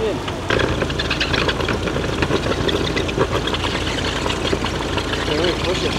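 A vehicle engine revs and its wheels spin, stuck in snow and mud, a loud continuous rumbling roar throughout with people talking over it.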